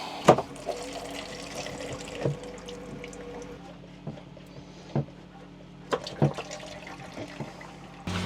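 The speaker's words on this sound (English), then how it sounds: "I can see that the water drips out of the bottom of this water pump" A leaking water pump on a sailboat in Fiji lets water fall in scattered drips, each a brief close tap over a low steady background hum, spaced irregularly about a second or two apart.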